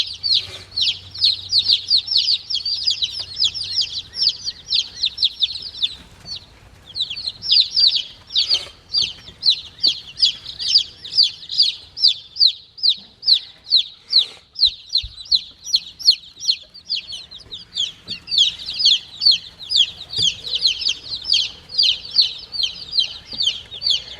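Newly arrived baby chicks peep and chirp in a constant, high-pitched chorus, many birds close together calling rapidly with only brief pauses.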